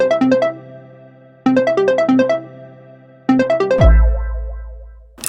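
A melodic electronic phone ringtone plays three loud repeating bursts of rapid chiming notes with short pauses between them, ending in a deep low boom as the ringing stops.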